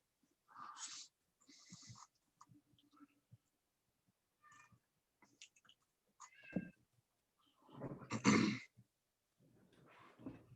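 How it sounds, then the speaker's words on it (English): A cat meows several times in short, separate calls, close by, with quiet gaps between them and one louder, drawn-out cry near the end. "He's been in here meowing at me, wanting to play with his ball."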